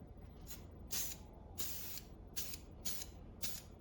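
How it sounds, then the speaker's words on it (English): Matte black aerosol spray paint hisses from a nozzle on a Suburban being prepped for a road trip, in six short bursts of varying length, fairly faint with quiet gaps between. "Oh, spray's nice."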